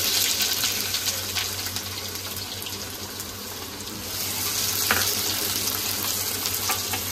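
Onions frying in hot oil for mutton paya, a steady close crackling sizzle that grows a little busier partway through, with faint clinks and no talking.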